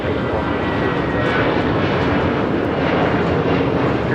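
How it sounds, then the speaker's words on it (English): Delta Air Lines Airbus A321 departing LAX for Atlanta: a loud, continuous broadband jet engine roar at full takeoff thrust, steady and close throughout with no voices. "This is Delta Airlines 715 taking off to Atlanta on an A321"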